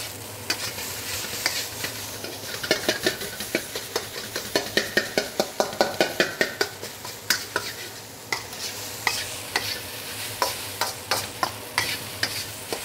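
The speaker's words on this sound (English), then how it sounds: "the only job left to do now is to mix it around" Egg fried rice stir-fried in a pan gives a constant sizzle with a long run of quick, rhythmic spatula scrapes and taps against the metal.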